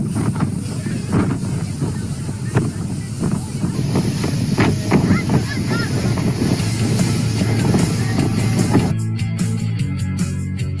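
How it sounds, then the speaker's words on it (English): Breezy wind outdoors buffets the microphone with a steady, loud rumble and roar throughout, and a faint voice is heard under it. "It is definitely breezy now."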